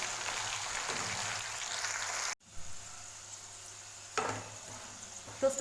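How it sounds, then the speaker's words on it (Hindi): Potato pieces frying over a medium gas flame in a pan for an aloo lobia curry: a soft, steady sizzle hiss with a brief break and a few light stirring clinks, no voices. "गैस की फ्लेम मीडियम रखिएगा और इस आलू को अब मैं थोड़ा फ्राई"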